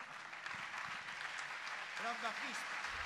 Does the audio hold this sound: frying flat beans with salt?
no